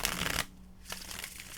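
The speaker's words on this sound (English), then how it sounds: "One more shuffle." Tarot cards riffled in a quick shuffle, a dense papery burst up close that stops abruptly, then a softer rustle as the deck settles, with no talking.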